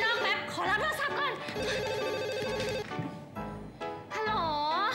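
A telephone rings indoors during a Thai TV drama scene, its bell tones rising and falling clearly across the clip, with background music and voices mixed in.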